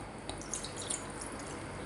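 Cold water trickles and drips into orange chicken batter made with egg and sesame oil, a brief, close, splashy pour.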